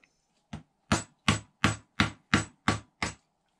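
Chisel or carving disc cutting into wood while making a bird nest box, with eight sharp, evenly spaced strikes following one softer opening tap, loud and close with no talk.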